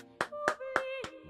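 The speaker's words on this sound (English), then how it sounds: "Round of applause." A streamer claps his hands five times at an uneven, unhurried pace, each clap sharp and close, with a faint sustained tone ringing between them.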